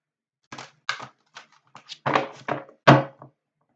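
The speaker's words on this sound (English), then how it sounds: "And you can see I'm shuffling them. They're massive, massive cards." Large, oversized oracle cards are shuffled by hand, making a series of soft, irregular papery taps and thumps that grow denser toward the end. The sound is close and quiet, with no voices.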